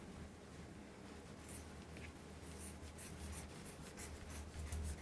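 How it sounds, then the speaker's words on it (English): Fabric being cut with scissors along a fold line while sewing an infinity scarf, heard as quiet, intermittent snipping and rubbing strokes that grow slightly louder toward the end, with no talking. "I'm going to take my scissors and I'm just going to cut right here along that fold line."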